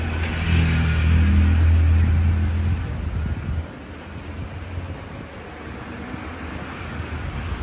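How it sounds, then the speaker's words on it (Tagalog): Loud, rumbling wind buffets the microphone, strongest at first and then easing into a steadier rushing gust. "Keras kong hangin."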